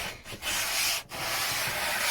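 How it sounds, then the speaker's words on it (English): Steady hand sanding of filler, a coarse rasping rub with a couple of brief pauses between strokes, close up and continuous. "sometimes when you're sanding, you're just quickly going over the top of it"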